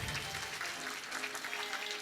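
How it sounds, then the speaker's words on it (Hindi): Devotees seated in a religious discourse pandal clap for themselves, a faint, brief burst of crowd applause heard from a distance. "एक बार अपने लिए ताली बजा लो आप लोग।"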